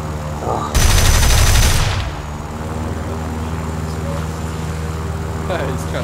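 A loud burst of LaGG-3 aircraft cannon fire in War Thunder, about a second of rapid continuous shots, followed by the steady drone of the propeller engine.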